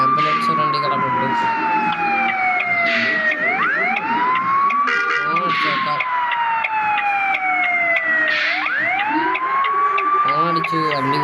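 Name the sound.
ambulance siren in Bus Simulator India video game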